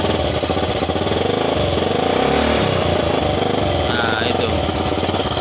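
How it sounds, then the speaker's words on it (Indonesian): A Yamaha Xeon motorcycle engine runs close and loud with a steady, rough, rumbling idle, while someone speaks briefly over it. "Kita akan cari bunyi ngorok pada motor Xeon ini."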